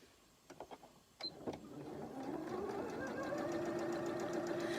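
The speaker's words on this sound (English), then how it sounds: "I'm going to sew right, and actually even if I sew off my fabric, no problem." A sewing machine stitching pillowcase seams starts after a few light clicks and handling taps, then runs in a steady, close, fast whirring hum.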